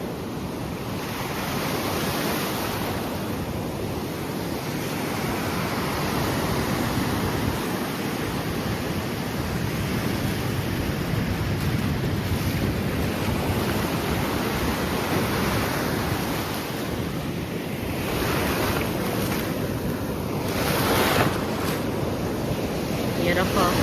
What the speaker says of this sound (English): Yeah, these waves are crazy.